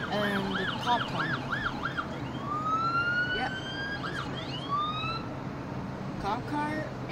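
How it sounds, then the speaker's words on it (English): Police car siren wailing at night during a Halloween pumpkin outing, its rising and falling sweeps clear and fairly close at first, then fading under other siren tones and people talking nearby. "And the cop car."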